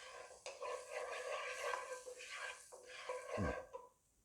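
Kashmiri chili powder sizzles in hot ghee while being stirred, a close, steady frying hiss with scraping spoon strokes against the pan that fades out near the end.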